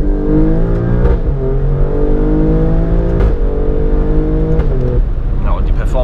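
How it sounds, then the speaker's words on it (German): A 510 hp Alfa Romeo Stelvio Quadrifoglio engine and exhaust rev loudly from inside the cabin, rising and falling in repeated pulls with sharp shift breaks. Someone talks over the engine. "Hier kommt der Klang einfach wirklich vom Motor vorne und vom Auspuff hinten."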